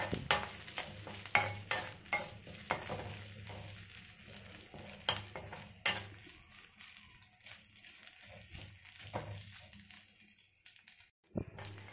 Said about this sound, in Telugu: ఆనియన్స్ అల్లం వెల్లుల్లి పేస్ట్ అనేది బాగా వేగిపోయింది